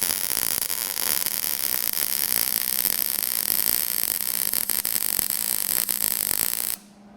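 Steady, loud crackling buzz of MIG-style welding a part onto a Nissan S14, a continuous sizzling hiss with fine pulsing that runs unbroken for nearly seven seconds before cutting off abruptly into quiet.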